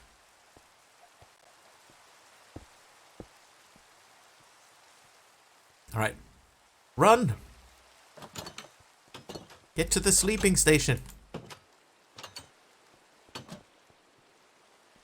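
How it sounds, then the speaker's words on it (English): Steady rain falling in the Minecraft video game, a soft continuous hiss in the background under game noises and occasional speech. "Oh, it's raining now."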